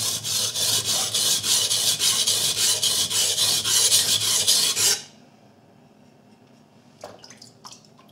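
A knife is drawn repeatedly across a sharpening stone in a steady rhythm of loud, rasping strokes for about five seconds, then stops, leaving near-silence with a couple of faint clicks.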